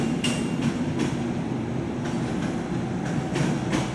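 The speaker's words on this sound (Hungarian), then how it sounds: "Borsod Intercity vonat érkezik Miskolc felől az első vágányra." An Intercity train arrives at a platform of a Budapest station, a loud steady rolling rumble with rhythmic clicks of wheels over rail joints recurring every half second or so.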